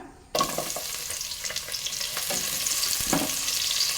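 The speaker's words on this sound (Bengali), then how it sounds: "পেঁয়াজগুলো ভেজে নেব" Sliced onions drop into hot oil with bay leaves for a beef and potato curry and crackle into a loud, steady frying sizzle, with occasional stirring scrapes, close by and without talk.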